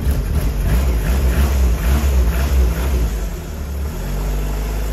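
Renault Estafette van engine, idle for 22 years, runs loud and close with a rough low throb that steadies into a settled idle, no voices.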